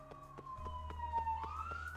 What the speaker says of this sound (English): Oh, there's more sirens.